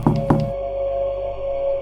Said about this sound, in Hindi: तभी दरवाज़ा नॉक होने लगा।